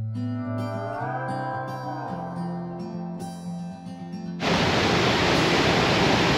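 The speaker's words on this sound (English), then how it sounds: "some of the nicer waterfalls I've been into in a while" Waterfall on a Scottish Highlands bikepacking route, a steady broadband rush of falling water that bursts in loudly after a few seconds of other sound and continues unbroken.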